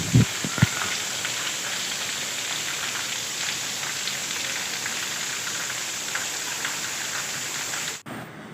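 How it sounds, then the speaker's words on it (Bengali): Steady rain falls outside during a home cooking session, a dense continuous hiss with a few close drips and knocks at the start, cutting off abruptly near the end. "আর বাইরে দেখুন কি বৃষ্টি হচ্ছে।"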